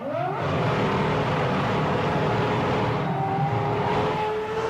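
A McLaren Formula 1 car at the 2003 Monaco Grand Prix screams along the start-finish straight, its high engine note loud and sustained, pitch shifting as it passes close by and stretches away with no talking.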